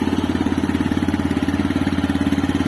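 A 2023 TVS Raider 125cc motorcycle, E20 OBD-2 model, idles steadily after an electric self-start, its exhaust putting out a loud, close, even putter with a fast regular pulse and no talking.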